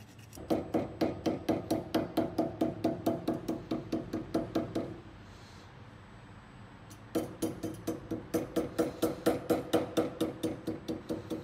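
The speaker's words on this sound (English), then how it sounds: "I use a clean and normal plastic hammer." Rapid, even taps of a plastic hammer ring out close by in a steady rhythm while fitting a head gasket on a Subaru EJ engine, pause for a couple of seconds, then resume at the same pace.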